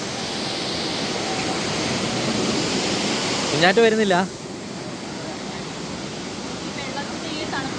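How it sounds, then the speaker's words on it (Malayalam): A large waterfall near Munnar pours with a constant broad roar of rushing water, and a voice briefly speaks over it midway. "ഇത് അതിലും വലിയ വെള്ളച്ചാട്ടമാണ്"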